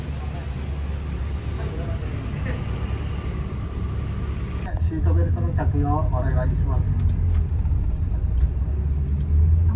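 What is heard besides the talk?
airport bus departing from Aomori Station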